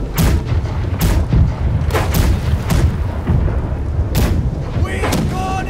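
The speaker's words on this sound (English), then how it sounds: "Left side cannons fire." Broadside ship cannons firing in the naval battle game Blackwake: a run of heavy, loud booms spaced roughly a second apart, each with a rumbling tail, over continuous battle noise.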